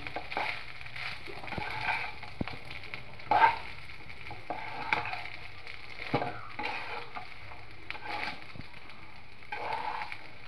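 Jeera rice frying in a pan over medium heat and being stirred with a spatula, a soft steady sizzle with occasional scraping strokes, quiet and close, no talk.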